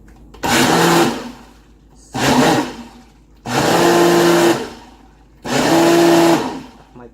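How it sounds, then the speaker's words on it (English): A Ninja blender runs in four separate loud bursts, each lasting about a second, with short quiet pauses between them. The whirring motor sounds close and strong, and no one speaks. "I'm gonna whip out this blender. This is the Ninja."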